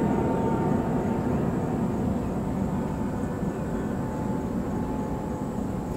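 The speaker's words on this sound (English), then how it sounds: "let me let this plane go past" An airplane passes overhead outdoors as a steady, broad roaring rumble that fills the whole stretch evenly without fading, with no other sounds standing out.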